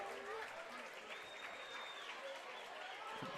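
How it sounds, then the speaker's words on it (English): A crowd claps at a college baseball game between Long Beach State and Hawai'i, a soft, distant patter of applause heard under a commentator's voice. "Claps from the crowd for Matt McMahon as he appears to be okay."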